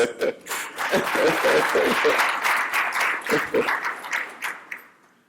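A crowd bursts into loud applause, steady clapping that swells and then fades out toward the end.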